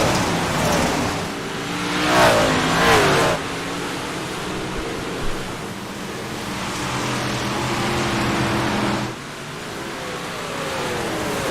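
Race car engines drone and rev in a sim racing dirt-track game, a continuous layered motor hum with a couple of louder revving swells passing close, no talk over it.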